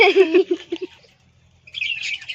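Several caged pet birds chirp in quick, bright bursts close by, then go quiet for about a second before a fresh run of twittering calls starts up.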